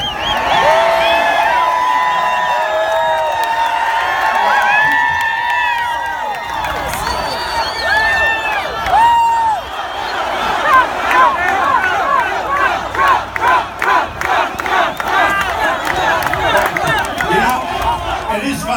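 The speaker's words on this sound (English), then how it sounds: "There's a big crowd, by the way." A large crowd at a Donald Trump campaign rally cheers and shouts continuously, loud and close, with a rising rhythmic chant or clapping building in the second half.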